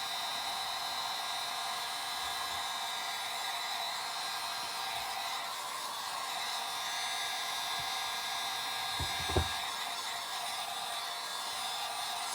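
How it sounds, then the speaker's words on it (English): Constant loud rushing airflow with a steady mechanical whine from a heat gun running nonstop over resin flowers on a sign, with a faint brief thump near the end. "So I'm just using my heat gun."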